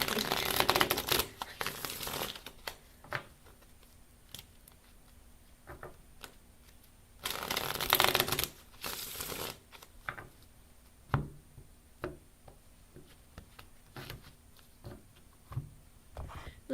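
Tarot cards are riffled and shuffled in several crisp bursts, with soft taps and clicks in between, close up and fairly quiet.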